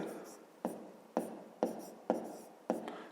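Pen strokes on paper while solving a fifth-grade math exercise: five or six short, distinct scratchy writing marks in an even rhythm, close and quiet, with no voice over them.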